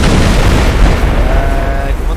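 Dense explosions rumble continuously in a Star Wars video game battle on Geonosis, a loud, heavy barrage of booms with no pauses.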